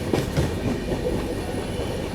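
Kushinagar Express train rolling along the rails through a curve and over crossings, a steady rumbling clatter of wagon wheels heard from inside, with no talk.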